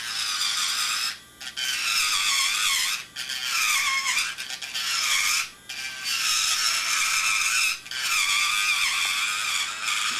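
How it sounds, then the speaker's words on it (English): A handheld Dremel rotary tool grinds out a hole in a pipe cap, a steady high-pitched whine broken by several brief pauses as the bit is lifted and set back to the work, loud and close with no talk. "What I'm going to do here, since I've got my Dremel, is work this out"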